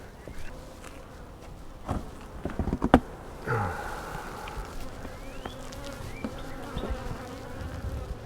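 Honey bees hum and buzz around an open beehive, a close, steady drone with individual bees passing the microphone, broken by scattered knocks and handling clatter from the hive.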